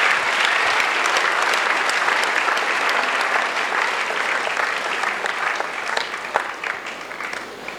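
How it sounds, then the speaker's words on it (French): An audience at an evangelism crusade in Douala claps steadily for several seconds, a dense, loud wash of applause that slowly tapers. "Acclamer, acclamer. Clap, clap."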